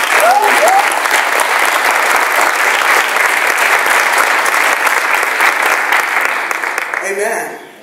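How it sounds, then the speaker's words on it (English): Sustained audience applause for Bishop Tonyia Rawls at an NAACP Charlotte gathering, a dense, steady wash of clapping from a large crowd that holds loud throughout and tapers off at the very end. "Let's give her a round of applause."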